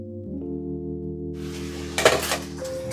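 A metal pot lid clatters briefly onto a pan on the stove, a short close clink and rattle over a steady background hum, while cooking a butternut squash and pancetta dish.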